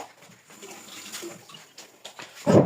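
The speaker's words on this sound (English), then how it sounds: "Now let me wash my hand." Hands rinsed under a running tap at home in a kitchen, a soft uneven trickle and splash with light rubbing that swells into a louder gush near the end.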